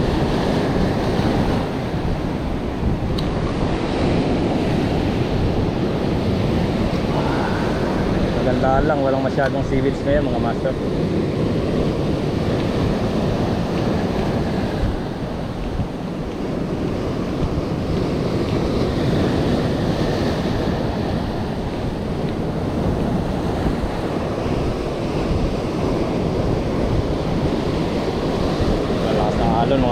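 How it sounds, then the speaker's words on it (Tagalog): Strong surf rolling onto a rocky Philippine fishing spot, a constant loud roar of breaking waves mixed with wind buffeting the microphone, as someone talks over it. "Malakas ng alon mga master"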